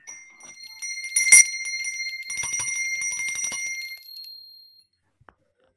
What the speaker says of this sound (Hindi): घंटानादं प्रकुर्वीत पश्चात् घंटां प्रपूज्येत